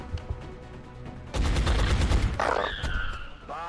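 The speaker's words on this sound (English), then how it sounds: "You, take the shot." Dense burst of gunfire from the XCOM video game erupts after a quieter stretch, a sustained loud volley lasting over a second, followed by lingering tonal game effects and whines.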